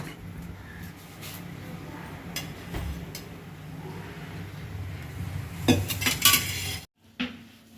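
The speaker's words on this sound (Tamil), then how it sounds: "இப்போ ரசத்தை தாளிச்சிடுவோம்." Metal pots, pans and utensils clink and clatter while rasam is tempered in a pan, with scattered sharp knocks and scrapes over a low kitchen hum, growing busier toward the end before a brief pause.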